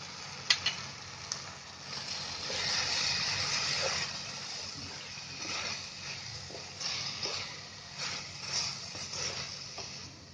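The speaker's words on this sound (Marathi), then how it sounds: "आता याचा मसाला चांगला मस्त फ्राय झालेला आहे" Garam masala, chilli powder and turmeric frying with onion and chicken in a hot pan on a high gas flame, a steady moderate sizzle with scattered crackles and spatters throughout, no one speaking.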